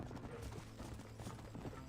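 A horse gallops in the Red Dead video game, with rapid, fairly faint hoofbeats running steadily beneath other game noise.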